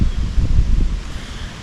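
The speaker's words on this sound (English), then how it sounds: "the wind's coming just steady right down this tree line." Steady wind blowing down a tree line on a hot day at an Illinois water hole, a close, low rushing buffet with gusty swells, no voices.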